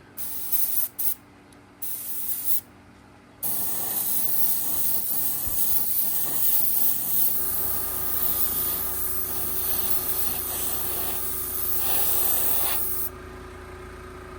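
Window tint spray misted onto a car window of a 1988 Shelby Z Daytona, a few short bursts first, then a long steady hiss of spraying that runs for about ten seconds before stopping.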